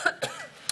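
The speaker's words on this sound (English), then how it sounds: "Cough." A short cough of two or three quick bursts from a person at a parks and recreation committee meeting, close and fairly loud with a brief throat sound between.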